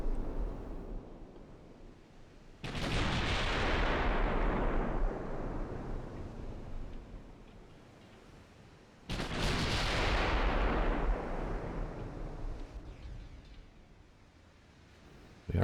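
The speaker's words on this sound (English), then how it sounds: "They're firing HE" Warship guns firing high-explosive shells in the naval game Ultimate Admiral Dreadnoughts, two loud booming salvos several seconds apart, each a heavy blast trailing into a long rumbling decay, with no voices.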